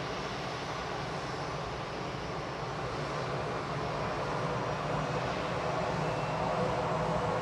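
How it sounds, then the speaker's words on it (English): An easyJet Airbus A320 Classic at Manchester Airport gives off a continuous loud jet engine roar and rush that stays even for several seconds, with no talking. "A320 Classic"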